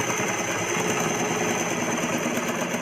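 A sewing machine runs continuously while stitching an umbrella frock for a five-year-old, giving a steady, close mechanical whir and rapid needle chatter with no speech.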